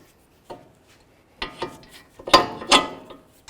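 Outer tie rod end on a 2006-10 Dodge Charger being threaded on, with a few short metallic scraping and ratcheting bursts, the loudest pair close together near the end, separated by quiet gaps.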